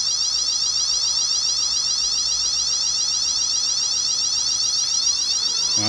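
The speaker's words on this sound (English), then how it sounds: "Fire alarm should go off about now." A fire alarm sounder on a sprinkler system, wired with a booster set and relay, rings continuously and loudly at a steady pitch for the whole stretch, with no talk over it.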